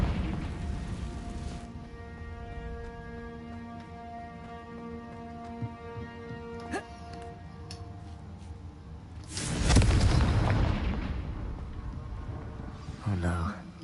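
The Confringo blasting spell goes off in Hogwarts Legacy: sustained game tones first, then one loud booming burst near the end and a shorter pop just after.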